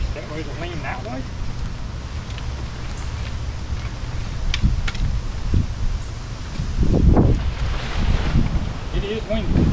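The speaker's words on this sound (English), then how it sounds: "It is windy today" Wind buffets the microphone in low rumbling gusts outdoors while a large camp shower tent is set up, strongest toward the end, with rustling and some talking mixed in.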